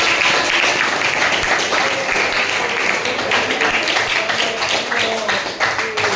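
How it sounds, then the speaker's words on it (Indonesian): A classroom of students applauds a classmate, the clapping dense and steady throughout at fairly loud volume, close to the listener. "kasih tepuk tangan buat Kela."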